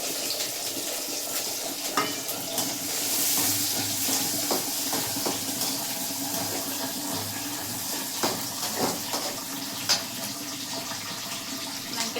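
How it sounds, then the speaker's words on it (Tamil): Garlic and green chillies sauté in a pan where fenugreek seeds have already browned, giving a steady sizzling hiss with occasional spoon clicks and stirring scrapes, close and continuous. "பச்சை மிளகா, பூண்டு போட்டு நல்லா வதக்கிக்கலாம்"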